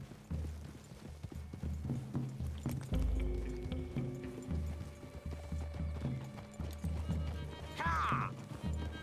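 Horse hooves clip-clop in a Red Dead Redemption 2 game scene, rhythmic trotting beats with a neigh near the end, set under game music and a character's voice.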